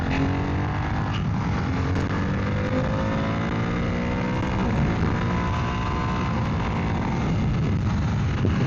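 Single-cylinder engine of a Ducati Hypermotard 698 motorcycle droning steadily at speed, loud and close with constant wind noise, no break and no talk.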